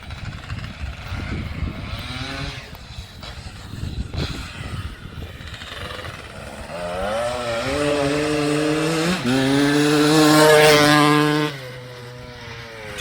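A Kawasaki KX250 two-stroke motorcycle engine running rich and smoky with a China carburetor, buzzing loud and close, revving up to a sustained high wail before dropping back to a lower idle.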